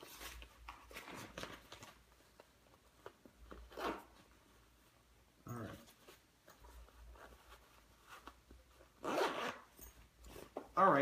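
The zipper on a Yoga Sak bag is pulled in several short, scratchy bursts with quiet pauses between them. The sound is close and fairly faint, with some talking in the clip.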